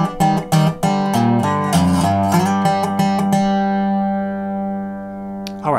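A delta blues guitar phrase played as a turnaround over the last two measures, with quick plucked notes and ringing chords that sustain and fade into a long decay at the end.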